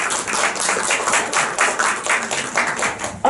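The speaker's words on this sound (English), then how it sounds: "Oh, thanks for claps" A film festival audience claps in a dense, lively patter close by, with applause that holds steady for about three seconds and hardly any talk.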